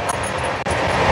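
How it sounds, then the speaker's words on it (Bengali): Rajdhani Express (12301, Howrah to New Delhi) running at high speed, a steady loud rumble and roar of rail travel from inside the train with a brief dip midway. "তো আমাদের ট্রেন এখন খুবই হাই স্পিডে যাচ্ছে"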